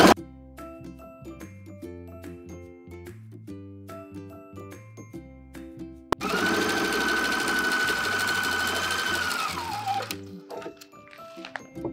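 A sewing machine runs in one sustained burst of about four seconds, bias binding the armhole and sleeve seam of a clear raincoat, following a stretch of background music and ending with a short slowdown.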